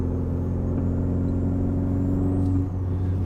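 A Ford Focus ST's exhaust drones steadily while driving, a loud, close, low engine hum with sustained tonal bands and a slight shift in pitch partway through, with no talking.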